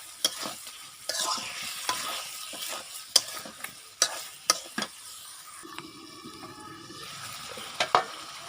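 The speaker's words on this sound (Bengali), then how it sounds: "এই যে হলো তেজপাতা আর দারচিনি দিয়ে দিচ্ছি।" Bay leaf and cinnamon go into hot oil beside meat being cooked down, making a soft sizzle broken by sharp clicks and scrapes of a spoon against the pan. A few bursts stand out near the start and end.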